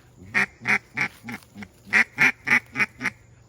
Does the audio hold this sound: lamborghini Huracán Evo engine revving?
no